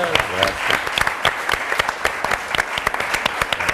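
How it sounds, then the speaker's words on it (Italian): A studio audience at an Italian television show applauds, a loud, dense roll of many hands clapping with distinct individual claps and voices mixed in. "un applauso"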